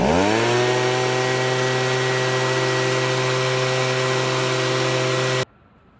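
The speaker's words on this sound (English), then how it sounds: "it's being blown by the leaf blower, the air coming from the leaf blower" A leaf blower roars at a steady pitch after a quick rev-up, droning continuously for over five seconds before cutting out abruptly, outdoors on a lawn.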